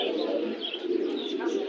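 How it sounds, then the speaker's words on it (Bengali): Pigeons cooing at a busy pigeon market in Jinjira, Bangladesh, with racing and fancy breeds on sale; soft continuous cooing and a few chirps sit close under people talking nearby. "দেখতে পাচ্ছেন অনেক সুন্দর সুন্দর কবুতর, সবজি রেসার, বিভিন্ন ধরনের রেসার ভাইয়ের কাছে আছে।"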